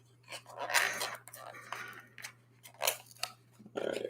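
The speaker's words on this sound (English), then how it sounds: "I'm just gonna go ahead and rip it." Someone tearing open Rare Beauty cosmetics packaging from Sephora, making several crinkly ripping bursts with pauses between them over a steady low hum.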